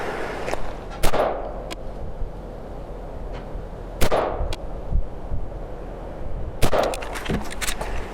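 Rifle fitted with an Ohhunt 1x32 red dot fired at a 25-yard range, three sharp, loud cracks spaced about three seconds apart, with faint handling noises between.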